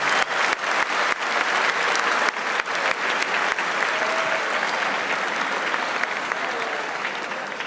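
A large audience delivers a huge round of sustained applause, dense and loud throughout, with a few sharper individual claps standing out above the crowd.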